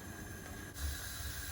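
Steady broadband hissing crackle of cumin seeds sizzling in hot sunflower oil, continuous and close, with no voices.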